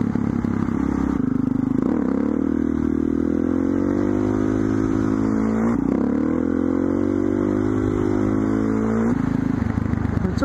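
Motorcycle engine revving hard and steadily, pitch climbing and dipping as the rider pulls wheelies at an outdoor riding spot, loud and close with a brief clatter midway.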